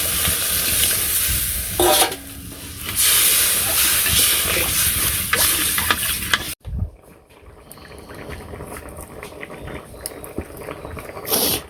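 Potato curry sizzles loudly in a pan with broth added back after the first batch cooked dry, spoon scrapes and stirs throughout, then the hiss drops to a softer, steady bubbling simmer after a sudden break midway.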